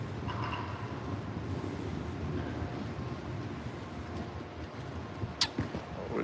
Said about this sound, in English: Would you look at that? A train to the city.